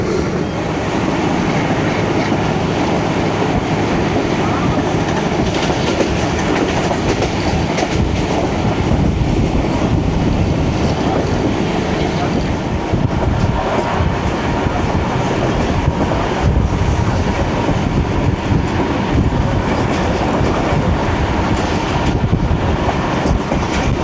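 A passenger train runs on rails in heavy rain between Lala Musa and Lahore, with a continuous loud rumble and rhythmic clickety-clack of wheels on track, heard from inside the carriage.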